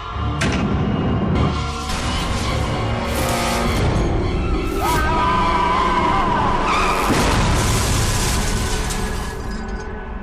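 A speeding car loses control and skids before hitting a tree: loud engine and sharp tire squeals, screeching slides and thumps packed close together over about ten seconds.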